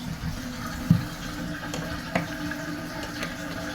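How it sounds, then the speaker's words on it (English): Water runs quietly and steadily into a leaking toilet cistern, a soft continuous trickle with occasional small knocks and splashes. "That's the water draining. You can hear the tap running."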